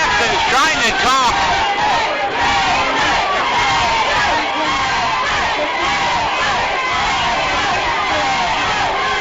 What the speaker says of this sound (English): This crowd is electrified.